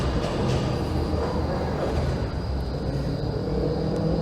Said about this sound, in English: noisy tram.